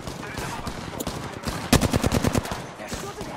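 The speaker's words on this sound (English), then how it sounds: "They're shooting at me." Enemy gunfire in Apex Legends, a rapid automatic burst of about a dozen sharp, loud shots in a steady rhythm, with scattered single shots and game noise before and after.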